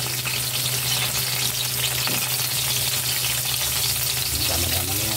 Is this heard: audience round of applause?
no